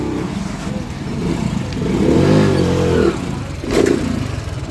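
A Hyosung superbike engine revs hard during a stunt, swelling to a loud, steady roar mid-clip and then surging again in a shorter burst, with a low idle rumble between.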